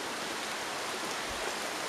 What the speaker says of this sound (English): It's still very drizzly out